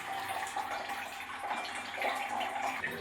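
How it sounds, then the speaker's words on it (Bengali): Water from soaked rice drains through a strainer into a bucket, giving a steady splashing, trickling rush that stays constant throughout and is close by, with no voices. "এই যে গামলার মধ্যে নিচ্ছি, এরকম জলটা বালতির মধ্যে ঝরে যাবে।"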